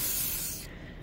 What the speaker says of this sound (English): Spray, spray, spray. We spray our car.